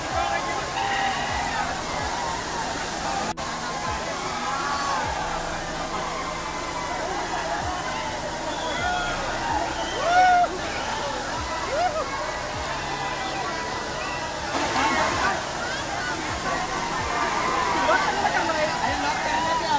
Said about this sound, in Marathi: तर मित्रांनो तर हा दुसरा धबधबा आहे बारकी वॉटरफॉलचा.